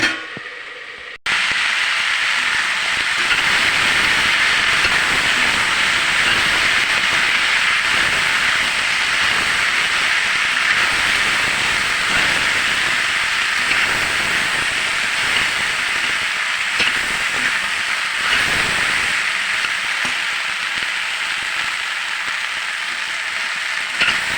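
Ivy gourd and egg sautéing in a pan, a steady, loud broadband sizzle and hiss that holds unbroken for the whole stretch after a brief quiet start, with no voices over it.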